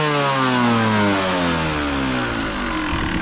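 A Beta 200 RR two-stroke dirt bike engine revs up and down close by, loud throttle blips with pitch sweeping and falling across a few seconds, no talking.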